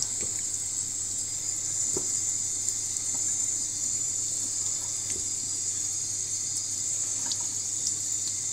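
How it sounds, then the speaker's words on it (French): Fresh strawberries are rinsed under a thin stream of tap water for a tart, a steady close hiss of running water from the faucet with faint small clinks, without speech. "je passe mes fraises sous un petit filet d'eau, délicatement"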